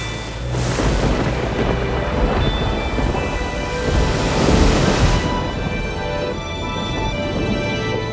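Loud, rolling thunder rumbles over steady heavy rain, swelling into a bigger crash midway before settling back into a continuous storm roar.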